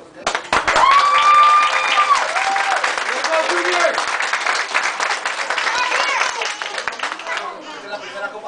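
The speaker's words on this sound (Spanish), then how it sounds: "merece el aplauso de todos y cada uno de sus padres que vinieron a ver a ustedes" Parents applauding children's league champions at a youth soccer trophy ceremony, sustained clapping and cheering from a nearby crowd with whistles and chatter mixed in, tapering off at the end.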